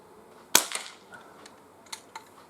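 A single sharp crack from a Crosman 2300T CO2 pistol fired outdoors at a can, followed by a few fainter ticks and light clicks in a quiet setting.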